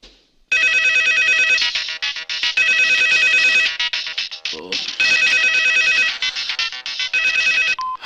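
A phone ringtone rings loudly and close after a call is dialed, repeating electronic bursts in a regular pattern with short gaps, filling the scene alone.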